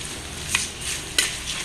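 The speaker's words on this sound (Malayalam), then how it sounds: "ഒരു 6 ചുമന്നുള്ളി അരിഞ്ഞത് ഇതിനകത്തേക്ക് ഇട്ട് കൊടുക്കുകയാണ്. ഇതിനി ഒന്ന് നല്ലോണം ഒന്ന് മുരിഞ്ഞു വരണം." Chopped shallots frying in hot oil in a pan for a Kerala-style fish curry, a steady close sizzle with two brief sharper crackles or stirring clinks, no voices.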